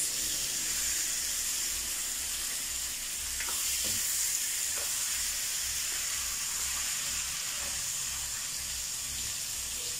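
Milkfish liver and intestines fry in a pan with a steady, loud, bright sizzle that holds throughout, with a few soft clinks of stirring close by.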